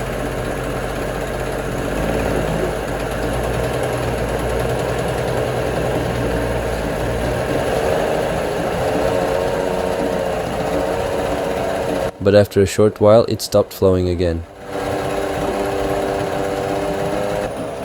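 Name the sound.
1968 outboard boat engine running and revving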